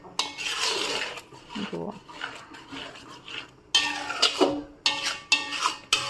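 A spoon scrapes and clinks steadily around a pan of carrot halwa, the stirring loud and close in repeated bursts, with a brief spoken word near the start.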